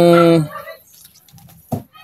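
A fighting cock, Belgian Shamo or Pakistani Aseel, at a gamefowl farm ring in Carles, Iloilo, gives a loud harmonic crow-like call up close, then falls quiet apart from a brief low sound and a short burst near the end.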